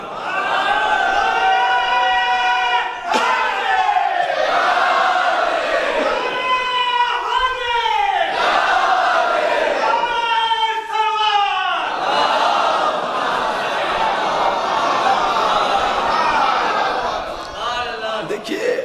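A large Shia mourning congregation at a majlis in Lucknow loudly chants the Nara-e-Haidari slogan, with repeated rising shouted calls and massed answering voices that continue almost without pause.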